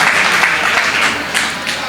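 Audience at a Holi comedy and poetry recital clapping together, a loud burst of crowded applause that swells and dips slightly with a faint voice underneath.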